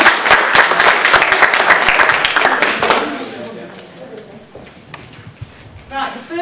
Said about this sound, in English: Everyone give Dawn a round of applause.